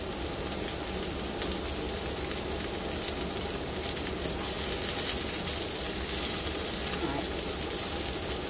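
Vegetables fry in a hot pan for a sweet and sour chicken dish, giving a steady, dense crackling sizzle close up that runs evenly throughout with no clear talk over it.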